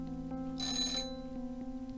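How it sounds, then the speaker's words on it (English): A pizza timer alarm rings in a short burst of bright, steady high-pitched tones for about half a second over a constant electronic hum. "there's the pizza timer"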